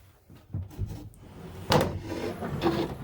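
Long wooden drawers in a DIY truck camper build slide open and shut, giving a few close thumps and a sharp knock midway followed by scraping runner noise.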